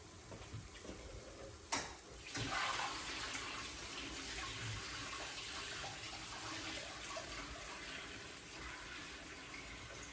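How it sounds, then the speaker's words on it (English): Water poured off chicken in a kitchen sink, a faint steady splashing stream with a sharp clunk near the start, running continuously at low level. "pour most of the water off of the chicken"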